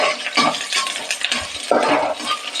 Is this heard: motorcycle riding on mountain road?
no